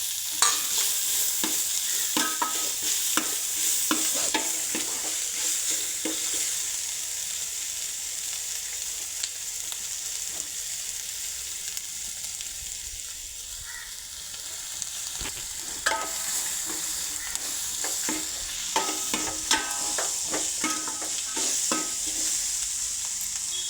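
Chicken curry fries in a pan with a continuous bright sizzle, while a utensil stirs and scrapes in repeated clacks and rattles throughout, close and with no talking.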